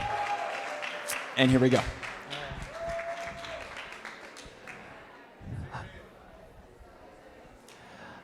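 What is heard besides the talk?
wedding guests applauding the best man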